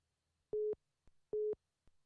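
A phone call-waiting tone signals another incoming call: two clean, identical electronic beeps about a second apart, each with a faint click, sounding fairly quiet against a silent line.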